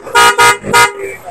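An aftermarket loud horn on a Honda ADV160 motorcycle blasts three short times in quick succession, close up, with a deeper, fuller tone than a standard beep.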